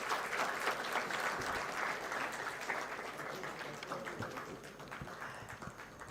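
An audience at a hackathon award ceremony applauds, a dense, continuous wash of many hands clapping that holds steady throughout and eases slightly toward the end.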